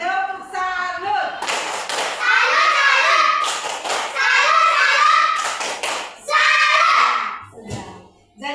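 A classroom of children performs the 'tepuk salut' clapping routine: rhythmic bursts of claps and taps mixed with their loud chanting voices, pausing briefly between phrases.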